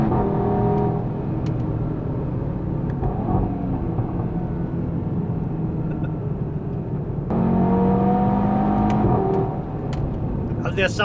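A 2016 Audi TT RS engine drones steadily while driving on a race track, a continuous buzzing engine note with a shift in pitch partway through as the car accelerates.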